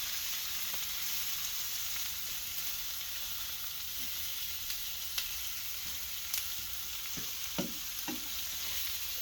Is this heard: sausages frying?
yes